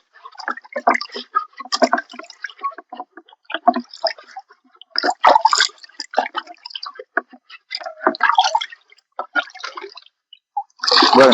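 Water splashes and gushes in irregular close bursts as a filter is washed, with brief pauses between the spurts and a stronger rush at the end.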